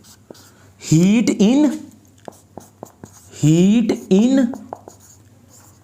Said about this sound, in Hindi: तो मैं इधर दो बातें लिख देता हूं